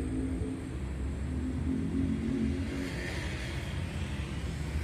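A VW T-Cross 1.4 250 TSI four-cylinder turbo engine running with a steady low rumble and a mild rise in revs near the end, moderately close and alone.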